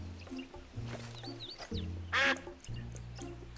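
Duck quacks from the adventure game Escape from Monkey Island come in a few short nasal calls spread over a soft game background, with one louder, brighter quack near the end.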